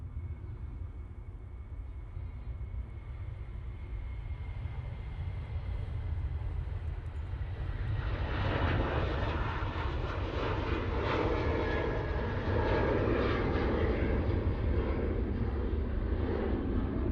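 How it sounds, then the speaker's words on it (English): A Ryanair jet bound for Budapest takes off from Manchester Airport. A distant engine rumble swells into a loud, broad roar about halfway through and stays strong to the end. "let's go for our first departure. This is the Ryanair off to Budapest"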